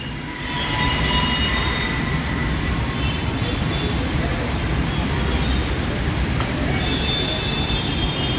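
A metro train runs at Habsiguda station in Hyderabad, a loud steady rail rumble and roar that holds throughout and stops abruptly at the end.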